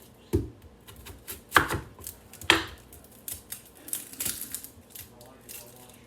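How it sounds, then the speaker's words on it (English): Knife chopping an onion on a cutting board for homemade chicken hibachi rice, a few sharp, irregular close-up strikes spread across a quiet kitchen. "Now let's cut the onion."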